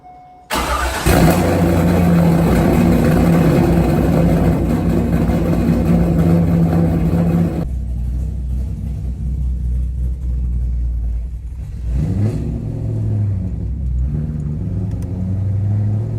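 A C5 Corvette engine cranks and catches, roaring up loudly, then settles into a deep, steady idle with a couple of revs near the end.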